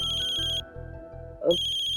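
A telephone ringtone trills loudly in bursts, a bright repeating electronic ring that pauses briefly before starting again, close and clear.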